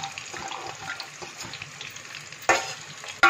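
Garlic, onion and green chilli sizzle steadily in a pan while a pumpkin curry is being made, with faint stirring scrapes and a couple of sharper clatters near the end.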